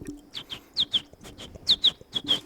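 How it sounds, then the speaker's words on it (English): Birds chirping outside, a quick series of bright tweets in irregular pairs, fairly close and clear over quiet room tone. "I hear those birds outside."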